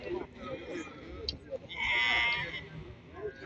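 Sheep and lambs at the Barda sheep market in Azerbaijan, one clear drawn-out bleat in the middle rising over the murmur of people talking nearby and general market bustle.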